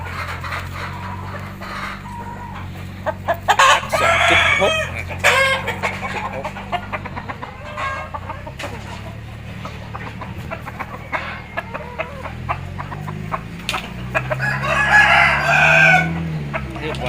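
Chickens cluck and a rooster crows loudly nearby, with scattered squawks and rustling across the scene, and another crow rising near the end.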